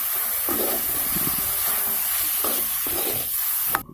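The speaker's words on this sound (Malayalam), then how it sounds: "സോയ ചങ്ക്സ് ഇടുകയാണ്. നന്നായി യോജിപ്പിച്ച് കൊടുക്കാം." Soya chunks being stirred and fried in a pan with a steady loud sizzle and hiss, with intermittent scraping strokes of a spoon through the pieces.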